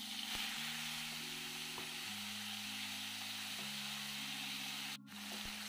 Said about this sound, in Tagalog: Igigisa lamang po natin ng dahan-dahan hanggang sa lumambot yung ating sibuyas